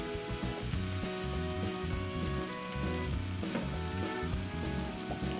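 Sauerkraut and red hot franks cook in a pan with a steady, close sizzle and frying crackle running throughout, fairly loud and continuous, with no talking.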